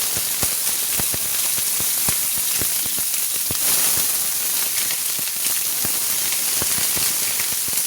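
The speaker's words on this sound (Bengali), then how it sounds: "বেগুনগুলো একটু তেলে ভেজে নিচ্ছি" Pieces of eggplant frying in hot oil give a dense, steady sizzle with sharp crackling pops spread throughout, close and fairly loud, with no voices.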